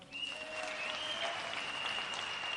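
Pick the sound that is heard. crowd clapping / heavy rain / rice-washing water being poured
crowd clapping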